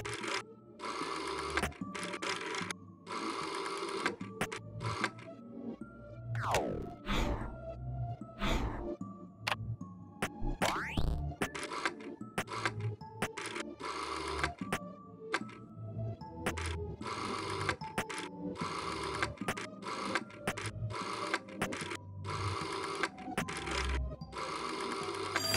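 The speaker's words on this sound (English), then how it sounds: "The teletrophone is making that odd noise again." A teletrophone in the video game There Is No Game makes an odd mechanical noise, heard as bursts of rapid buzzing and clattering tones broken by short pauses and a few sweeping electronic glides.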